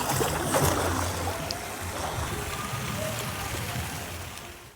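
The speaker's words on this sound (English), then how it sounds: "It rains, but we don't care." Rain falls steadily outdoors in a continuous, even hiss of drops spattering on surfaces, fading slightly toward the end, with no one speaking.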